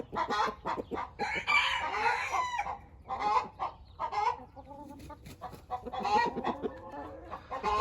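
Sussex chickens clucking and calling in a coop, a busy overlapping flock chorus of clucks and squawks with a rooster-like crow mixed in, fairly close and continuous throughout.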